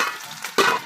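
Hot cooking oil spatters in a frying pan while garlic browns for adobong kangkong. A soft crackling hiss runs throughout, then one sharp, louder burst of sizzling near the end.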